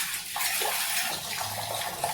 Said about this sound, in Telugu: మళ్ళీ మంచినీళ్ళతో 2 సార్లు కడుగుతా.